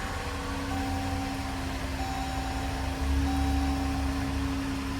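Dodge Durango engine idles just after starting, with about 142,000 miles on it, a steady close mechanical hum with a faint whine, a brief rise in level partway through, no talking.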